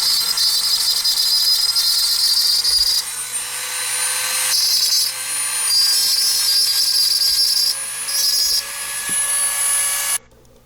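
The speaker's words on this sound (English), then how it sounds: "Grind the burrs off the wheels" A handheld rotary grinder whines steadily while grinding burrs off the wheels of a Midge toy Corvette, pitch dipping and rising as it bears on the metal, then cutting off abruptly near the end.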